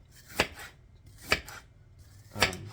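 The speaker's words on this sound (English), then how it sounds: "But I have to cut up some of this apple." A knife cuts through an apple on a board in a home kitchen, three sharp, separate chops spaced about a second apart, close and clear with no talking.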